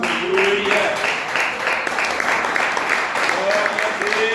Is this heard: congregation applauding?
yes